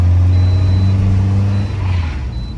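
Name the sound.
SUV engine revving at full throttle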